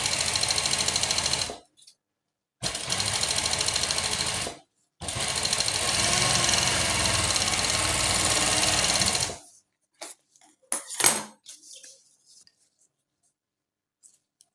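A sewing machine stitches a sequin fabric neckline in three long, steady whirring runs separated by short pauses, then falls quiet except for a few brief clicks and taps of handling.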